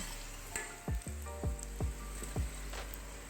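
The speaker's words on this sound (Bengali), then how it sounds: "এবার কেটে রাখা ঝিঙেগুলোকে আমি কড়াইতে দিয়ে দিলাম ঝিঙেগুলো একটুক্ষণ ভেজে নেব" Sliced ridge gourd sizzles quietly in a hot kadai, with a few soft clunks of the pieces and utensil against the pan.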